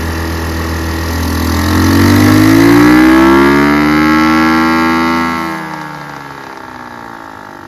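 Chinese GY6 150cc scooter engine, fitted with a newly replaced carburetor, revs up on the throttle, holds a loud buzzing rev, then drops back toward idle, heard close with no talking.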